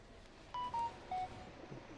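A phone gives three short electronic beeps, like dialing tones, spaced close together over faint background hiss.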